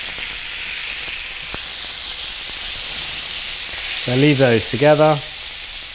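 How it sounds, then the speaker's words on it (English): A sirloin steak sizzles steadily in a pan while being basted, a broad, constant frying hiss near at hand, with someone speaking briefly toward the end. "keep basting that meat"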